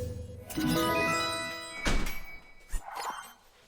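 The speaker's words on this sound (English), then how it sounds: "I need to close the back door now because it's cold" A back door is pushed shut against the cold: a brief creak and rattle, then a solid thunk of the door closing, followed by a lighter click of the latch, fairly close by.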